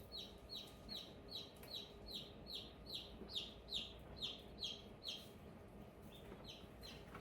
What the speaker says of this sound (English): It sounds like a chicken chick.